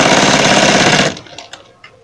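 A sewing machine stitches a folded 1/4-inch fabric strip along a sleeve, running loud and continuous with a dense rapid rattle for about a second before stopping, followed by a few faint handling clicks.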